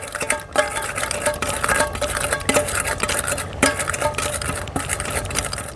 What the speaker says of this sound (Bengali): যে জিরেগুলো আমি তুলে রেখেছিলাম ওটা আমি হাতা দিয়েই বেটে দিচ্ছি।